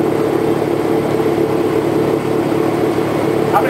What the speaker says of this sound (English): How many horsepower are those engines?